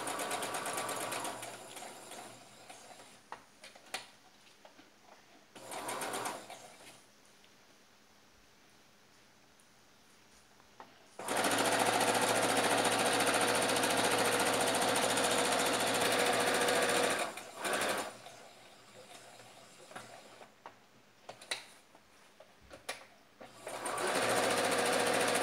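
Sewing machine stitching three sides of a men's shirt, running in a long steady burst and a few shorter ones, loud and close with quiet handling between runs.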